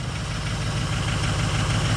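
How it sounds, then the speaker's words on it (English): Idling Powerstroke diesel bus engine with an exhaust leak from a missing exhaust pipe, a steady low throbbing idle with a constant hiss over it, close and unbroken, no talking. "We got an exhaust leak because I forgot to put the exhaust pipe back on."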